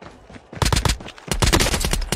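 Automatic gunfire in a battle royale shooter game rattles in two rapid bursts, the first short and the second longer, loud and sharp with a brief pause between them.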